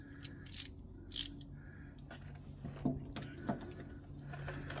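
A 3/8 ratchet works the oil pan drain plug on a Seneca, giving a few quiet, spaced bursts of sharp clicking with a faint mechanical background hum between them.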